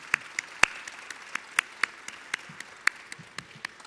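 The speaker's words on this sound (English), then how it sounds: "Let's give him a round of applause" Sparse, sharp hand claps ring out from a small audience at a government briefing in a new airport arrivals and departures terminal, individual claps distinct and irregular, fairly close, with no talking.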